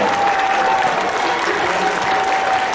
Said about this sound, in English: Another round of applause for Mr. Oliver.